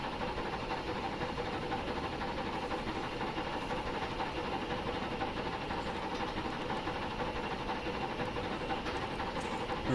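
A locomotive in the Train Simulator Classic game pulls away with the reverser set around halfway, giving a steady, dense engine rumble with a constant hiss layered over it, unbroken and even in level throughout.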